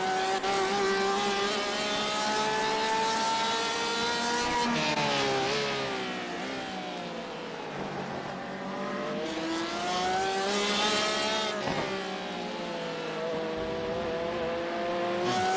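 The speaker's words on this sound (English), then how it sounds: "Porsche sounds clean." A Porsche race car engine in iRacing at the 12 Hours of Sebring screams loud and steady, its pitch climbing through the gears and dropping on the shifts, close and continuous throughout.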